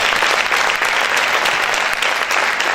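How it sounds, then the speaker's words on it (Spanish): A church congregation claps loudly and steadily in a dense, continuous round of applause that lasts throughout, with no gaps. "Vamos a aplaudir fuerte al Señor"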